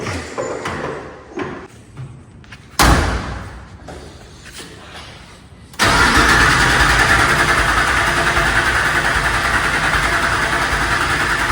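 A Ford F100 truck engine catches after a few short cranking bursts and settles into a steady, loud, close idle that runs on alone.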